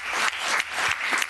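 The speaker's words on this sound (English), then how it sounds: "we can give them a round of applause" A short burst of applause at a school board of education meeting, a small group clapping with a faint, uneven rhythm in a quiet room.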